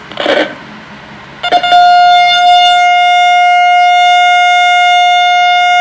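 After brief clatter, a loud electronic burglar alarm siren starts and holds a steady, piercing pitch without stopping.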